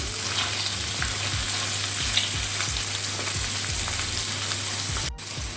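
Fish fries in a pan, sizzling steadily and loudly up close, with soft periodic thumps or scrapes underneath and a brief cut near the end, and no talking.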